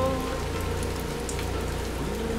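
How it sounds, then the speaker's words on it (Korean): Steady rain falls on surfaces in an unbroken, dense patter, loud and close, with no voices and only a faint musical hum beneath it. "빗소리를 들으며 노래 한 곡 하고 듣고 있습니다."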